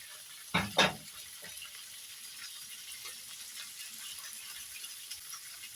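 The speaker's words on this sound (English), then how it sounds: "I'm going to take it and drain it in the sink" Cooked spaghetti is drained in a kitchen sink. Two quick splashy clatters come first, then a soft, faint hiss of running water trails off.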